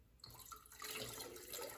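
Melted tallow soap mixture is poured slowly into a container, giving a brief, faint liquid trickle and splash that swells after a quiet start.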